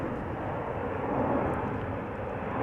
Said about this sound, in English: this is KLM Cargo, Boeing 747-400 to Johannesburg